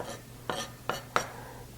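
Onions pushed across a cutting board while making cold pea salad, a few soft knife-and-board scrapes and taps spaced apart, quiet and close over low background hum.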